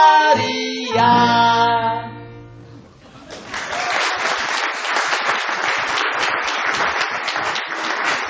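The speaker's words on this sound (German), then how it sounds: "Applaus" Applause from an audience at a Pasing art and culture prize ceremony, a dense steady wash of clapping that follows sung or spoken performance and continues loudly for several seconds.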